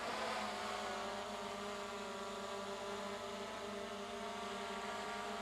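A DJI Mini 4 Pro drone landing on a landing pad gives a steady, close propeller whine with a buzzing tone that holds constant throughout.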